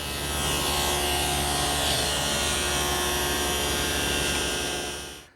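A power saw rips wooden strips for plantation shutter louvers, giving a loud, steady motor whine that holds for about five seconds before spinning down at the end.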